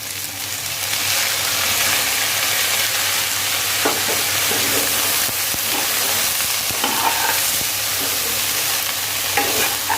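Okra sabzi sizzling in a pan as lemon juice goes in, a loud continuous frying hiss with occasional stirring scrapes throughout.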